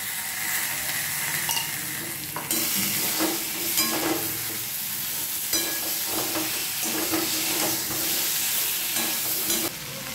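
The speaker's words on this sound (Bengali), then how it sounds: "সামান্য একটু গরম জল দিয়ে ঘাঁটছি" Potato curry being mixed with yogurt and a splash of hot water in a hot pan, a continuous loud sizzle and hiss with rhythmic stirring scrapes, close up and without voices.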